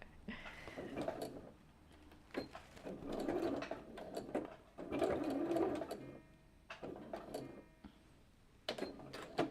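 A sewing machine stitching a shirt runs in several short bursts with brief pauses between them, loud and close, with no talking.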